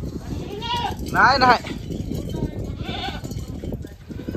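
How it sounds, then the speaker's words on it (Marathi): Goats bleat on a farm in rural Maharashtra, several wavering calls rising over a busy background while someone speaks nearby, the loudest bleat coming near the middle. "आमचा चाला शेळ्याचा असला राडा"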